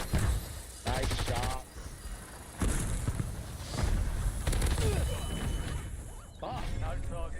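Rapid automatic gunfire from a Black Ops Royale battle, with dense bursts of shots and crackling volleys running through the whole stretch, loud and close, while players talk over it.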